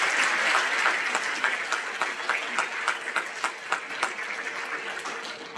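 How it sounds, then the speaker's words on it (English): A school auditorium crowd at an eighth grade awards ceremony claps steadily, dense applause starting loud and gradually thinning into scattered claps over several seconds. "And a round of applause for our attendance"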